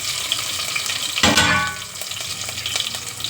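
Onions dropped into hot oil with a mustard-seed and cumin tempering, giving a loud, close crackling sizzle that flares up sharply partway through and then keeps frying steadily.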